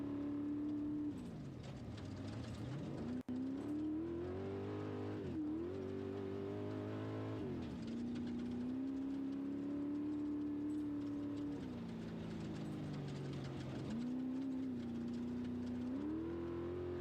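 Onboard a Class 1 off-road race car at Baja Nevada, the engine drones loud and continuous, pitch swooping down and back up through shifts and throttle lifts over rough desert terrain.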